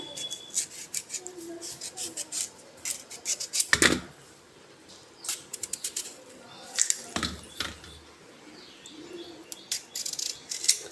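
A knife cuts through chayote (chow chow) in a home kitchen, giving a few crisp, separate chops against a steady background of chirping birds.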